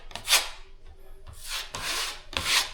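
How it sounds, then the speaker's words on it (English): Three broad scraping swipes of a drywall taping knife spreading joint compound over screw heads, each a rough rasping stroke with short pauses between, close and fairly loud with no talking. "3 swipes on the screws."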